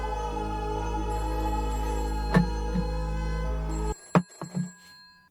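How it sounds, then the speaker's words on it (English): A telephone rings inside a song, a steady repeating ring over sustained music before the backing cuts out and a few sharp hits remain. "Phone ringing, ambiance too."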